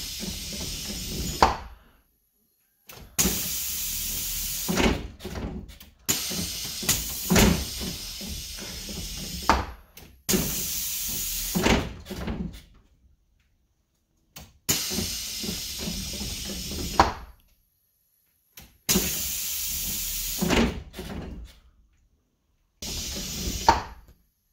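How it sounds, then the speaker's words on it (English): School bus doors open and close repeatedly, each cycle a sharp pneumatic hiss of air with a clunk, separated by short silences across about eight rounds. "we'll do a little intro of the doors opening and closing"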